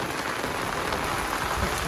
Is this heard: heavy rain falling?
yes